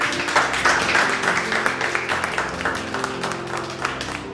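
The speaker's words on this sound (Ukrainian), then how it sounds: "А зараз, будь ласка, ми вас проводжаємо оплесками" A studio audience on a Ukrainian televised cooking competition applauds steadily, a dense, loud wash of clapping that holds for several seconds before thinning slightly toward the end.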